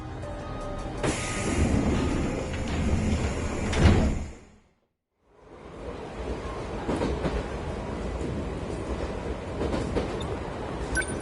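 Train pulling into a station in the video game 13 Sentinels, a loud sustained rumble with rail clatter that drops to silence for about a second, then resumes as a steady rolling drone with faint clicks.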